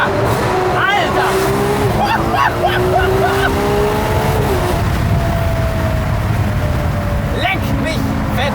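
A Ferrari 812 Competizione V12 revs hard, loud and close from inside the car, with sharp exhaust pops and bangs at each gear shift as voices talk excitedly over the roar.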